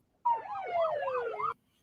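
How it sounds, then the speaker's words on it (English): Police siren in replayed footage of a brawl: a loud, close electronic wail sweeping up and down in a steady rapid cycle, sounding alone for just over a second before cutting off abruptly. "You could hear the police sirens or whatever."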